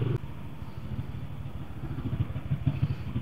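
Motorcycles crowd a busy fair expo in Jakarta, a dense rumbling engine drone with clattering and revving throughout, steady and fairly loud, no clear talk over it.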